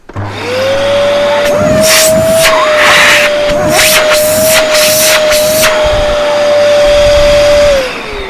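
A Dyson DC11 vacuum cleaner switches on, its steady motor whine rising and holding loud and close for about seven seconds before spinning down, with intermittent bursts of rushing suction noise along the way.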